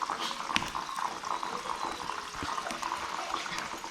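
Thick jackfruit pieces frying in hot oil, a steady close sizzle with soft crackling and bubbling that holds at an even level throughout, with no voices.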